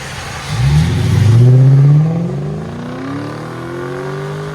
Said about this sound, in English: This is LS 460. Factory converters, factory X-pipe, Dynamax race bullets.